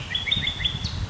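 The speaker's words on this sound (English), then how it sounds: "birds all over the place. It's nice." Birds chirping in a forest meadow in the morning: a quick series of bright, high tweets repeating close together over a low outdoor background rumble.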